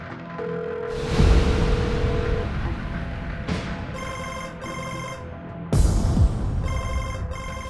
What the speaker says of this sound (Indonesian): Coba ya aku telepon Ozi atau Bas dulu